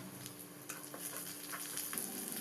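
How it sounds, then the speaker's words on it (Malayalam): Dried red chillies and curry leaves crackling in hot oil in a pan, a steady close sizzle with quick spitting pops and faint stirring, no voices. "ഇനി ഇതിലേക്ക് കുറച്ച് കറിവേപ്പിലയും കൂടി ചേർത്തിട്ട് നന്നായിട്ടൊന്ന് ചൂടാക്കാം"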